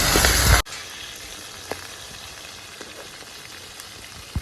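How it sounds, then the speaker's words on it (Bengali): Rita fish fry in hot mustard oil, opening with a loud, roaring sizzle that drops sharply within a second into a steady, softer crackle with scattered pops. "মাছগুলোকে ছেড়ে দেবো তেলে"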